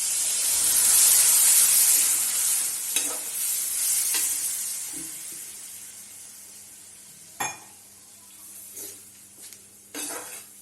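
Water poured into pointed gourd (parwal) curry frying with amchur powder bursts into a loud hissing sizzle that gradually fades, followed by scattered scrapes and knocks of stirring in the pan.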